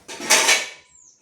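A metal pot clanks down onto a gas stove in a home kitchen, a single short bright clatter that quickly rings out and fades.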